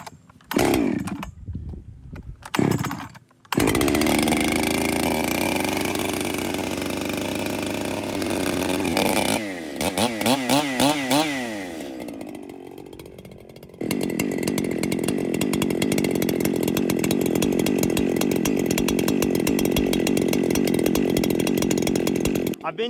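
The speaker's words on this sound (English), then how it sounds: "I get to run an awesome saw ported by Tim at Iowa Performance Saws." A ported professional Echo chainsaw modified by a performance saw shop, starting with a few pulls and sputters, then screaming at high revs, dropping to a warbling idle and revving loud again, close and sustained.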